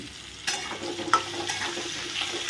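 Potato pieces fried in a pan with turmeric and salt, a close, steady sizzle broken by a few clattering stirs, with no talk.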